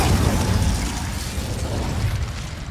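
An Incendio fire spell is cast in Hogwarts Legacy, a loud whooshing burst that flares at the start, then settles into a crackling, rushing roar.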